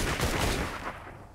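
Gunfire from Fortnite: Save The World, a dense burst of rapid shots filling the first second and then tailing off into fading reverberation, loud and alone with no talk.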